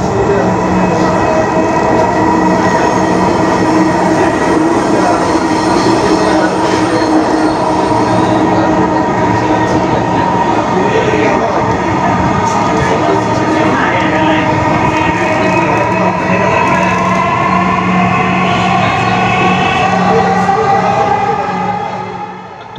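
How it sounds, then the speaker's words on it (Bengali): Inside a Dhaka Metro Rail train running toward Agargaon, a loud, steady rumble of wheels and motors fills the cabin, with a rising electric whine as the train gathers speed. "তো আপনারা মেট্রো রেলের যাত্রা উপভোগ করতে থাকেন"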